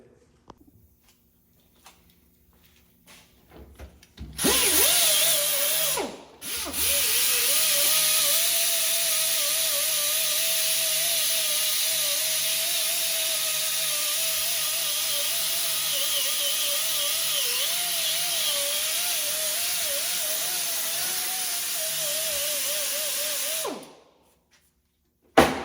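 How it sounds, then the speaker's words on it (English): A power tool fitted with a 3M Roloc gasket disc works on a Rogue frame, spinning up with a sharp whine, pausing briefly, then grinding steadily for nearly twenty seconds before winding down. "What I'm using here is a gasket disc, and these are made by 3M"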